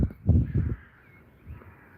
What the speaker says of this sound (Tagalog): Ayun yung mga uwak, oh.